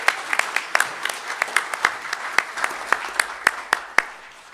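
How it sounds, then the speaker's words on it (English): Scattered clapping at a school district board meeting, a modest group of hands producing distinct individual claps, fairly sparse and uneven, with a few sharper louder claps standing out toward the end. "Let's give her a round of applause."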